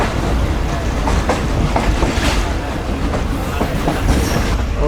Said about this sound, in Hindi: और ये रही हमारी पीछे पूरी ट्रेन